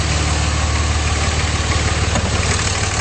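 A 2006 Dodge Ram 2500 5.9L diesel engine idling, a close, loud, steady rumble with an even rhythmic diesel clatter throughout.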